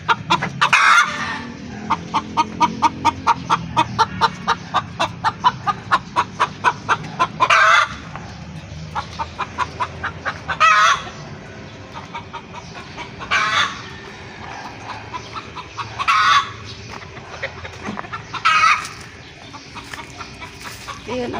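A hen laying eggs clucks in a fast repeated series, then gives louder spaced cackles, close by in a farmyard.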